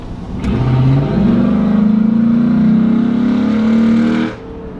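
A Ford Raptor with a new Corsa exhaust revs loud and close, with a steady rising engine drone held for several seconds before it drops off abruptly.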